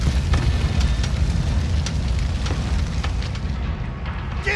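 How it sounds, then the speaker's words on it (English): Grenade blast in the Call of Duty Modern Warfare campaign mission Fog of War, a loud low boom that rolls on under constant battle noise, with faint shouting soldiers in the background. "Grenade!"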